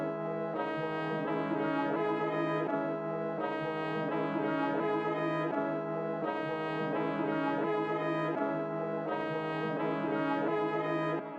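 A looped music sample run through an effects chain with highs cut and stereo width for a vintage feel: a steady, dense, muffled chordal pattern repeating in even phrases, soft and continuous without talk.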